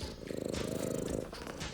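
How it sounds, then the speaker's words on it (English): A house cat purrs close by in a room crowded with collected art supplies, a steady, soft rhythmic rumble of quick pulses that swells slightly in the middle and continues alone without any talking. "This room also comes with a cat."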